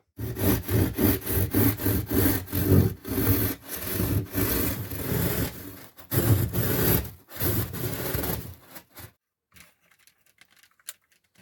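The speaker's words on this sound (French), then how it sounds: "La petite scie qui va bien. C'est tracé, c'est parti, on coupe." A small hand saw cuts with quick, rhythmic back-and-forth rasping strokes for several seconds, then stops, leaving near silence, during a camper van renovation.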